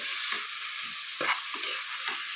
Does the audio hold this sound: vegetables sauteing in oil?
yes